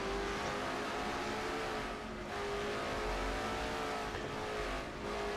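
Race car engine in a NASCAR racing video game, droning continuously with slight throttle changes and a few brief dips as the car works through a road-course turn in second gear, loud and steady with no voices.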